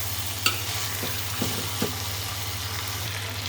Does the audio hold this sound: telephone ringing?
no